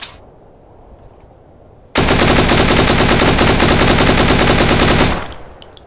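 Sustained rapid automatic fire from an AK-47U in the video game Deadside, a loud unbroken burst of dense, evenly spaced shots lasting about three seconds before cutting off and trailing into a brief echo.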